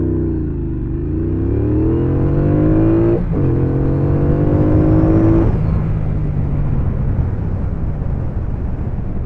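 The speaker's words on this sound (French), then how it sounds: "je vais te faire une petite accel de 0 à 100 km/h" A Triumph Bobber Black motorcycle accelerates hard from standstill to 100 km/h, its engine note climbing loudly through the gears with a brief shift break, then giving way to rushing wind noise.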